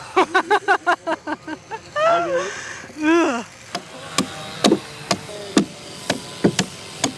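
Sharp wooden knocks from a chisel being swung into wood, arriving in an irregular string of close, loud strikes, with a few stretches of talk in between.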